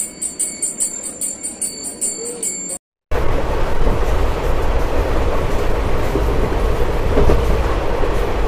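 The 12347 Sahid Express from Howrah to Rampurhat rolls along the rails, a loud steady rumble and rattle heard from on board after a short chiming sound at the start.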